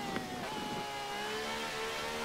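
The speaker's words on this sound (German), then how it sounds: "Mit einem Austin mit V12 Racing Motor." Austin fitted with a V12 racing engine in the video game Forza Horizon 4, giving a steady, droning engine note that holds a sustained pitch and rises slightly throughout, loud and close with no talk.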